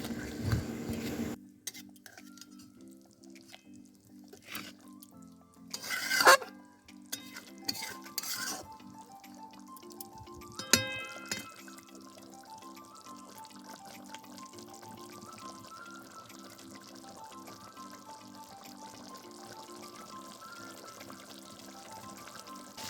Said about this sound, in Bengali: চলুন ভালো করে মাংসটাকে নাড়াচাড়া করে কষিয়ে নিই